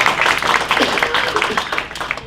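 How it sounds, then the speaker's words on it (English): A short, close round of applause from a small gathered audience, dense overlapping claps fading out after about two seconds. "Give it a round of applause."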